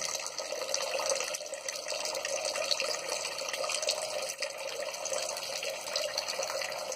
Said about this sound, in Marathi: तोपर्यंत हे सगळं पाणी आहे तसंच पडत राहील